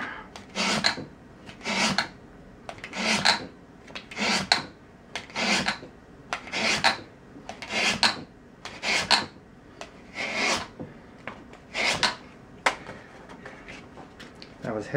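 Heavy-grit abrasive filing a Steinway L piano action hammer, producing regular, close rasping strokes about once a second in a steady back-and-forth rhythm, with no talk over them.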